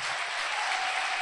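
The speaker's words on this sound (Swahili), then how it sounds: "Tumpigie Bwana Yesu makofi." Church congregation applauding, a dense, even wash of many hands clapping at moderate distance, continuous and unbroken with no talk over it.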